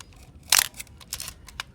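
Canon F-1 camera with a Booster T Finder firing its shutter: one sharp mechanical snap followed by a few lighter clicks, close and crisp over a quiet background.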